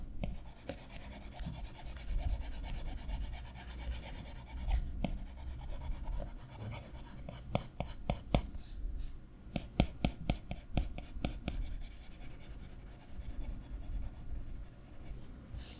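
A pencil scratches across paper while drawing, a soft, close, continuous rasp that breaks into quicker rhythmic strokes and light taps later on.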